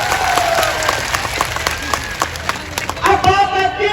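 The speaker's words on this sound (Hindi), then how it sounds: "एक बार जोरदार ताली बजानी तो इनके लिए बजाए।" A crowd at a farmers' mahapanchayat rally claps loudly in a dense, sustained ovation with scattered cheering, while amplified voices and some tonal sound rise near the end.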